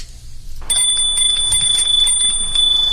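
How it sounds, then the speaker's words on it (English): A small handheld Christmas bell rings steadily, a bright high jingle held almost continuously after a short quiet start, close and fairly loud over faint room noise. "Kathy's Christmas bell, Bert."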